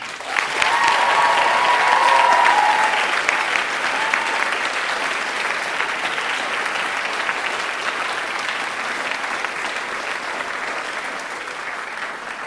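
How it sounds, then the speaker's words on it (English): Loud, sustained applause fills a hall at a Model United Nations closing ceremony, with a brief whistle early on, then fading slowly. "please join me in a round of applause to thank our presidents of the General Assembly"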